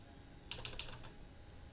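Brief burst of typing on a computer keyboard while entering commands, about half a dozen quick crisp clicks close by, quiet against a faint background hiss.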